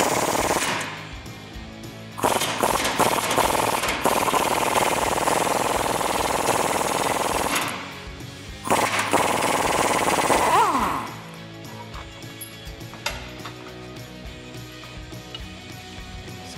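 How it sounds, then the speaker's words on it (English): A power tool with a 21mm socket rattles hard against a Jeep Wrangler track bar bolt while a 7/8 inch wrench holds the nut, in loud, rapid hammering bursts separated by short pauses. "I'm going to be using a 7/8 inch wrench to hold the nut on the other side and our 21mm socket that we used at the axle side to remove the bolt."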